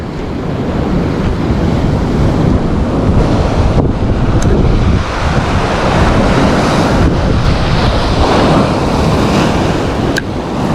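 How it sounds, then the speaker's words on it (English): Ocean waves break steadily on the Irish coast, a loud, continuous roar of surf with heavy wind buffeting the microphone and no talking. "A few waves come up here, you definitely got to be on the lookout."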